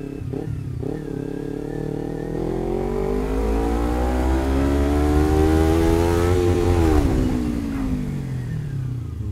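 Motorcycle engine revving hard while riding, pitch climbing steadily through a long pull then dropping off, loud and close with wind rumble.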